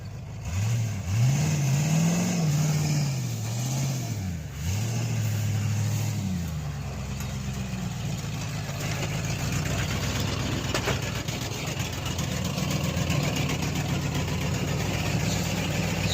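A truck's engine revs hard while dirt drifting, its pitch rising and falling through a few surges, then settles into a steady, loud idling rumble that continues alone to the end.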